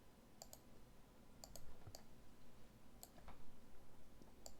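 Computer mouse clicking in image-editing software, a series of sharp, faint single and double clicks spaced irregularly, close by and with no talking.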